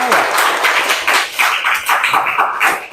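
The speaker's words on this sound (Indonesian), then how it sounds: "Ya, tepuk tangan untuk Intan dengan pendapatnya" A classroom of students applauding a classmate, a dense burst of close, steady hand clapping lasting a few seconds.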